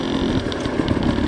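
A motorcycle engine under steady, controlled throttle, a continuous buzzing drone with slight rhythmic pulses, close and fairly loud over a short stretch.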